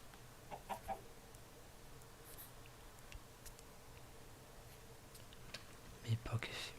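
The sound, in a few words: chickens clucking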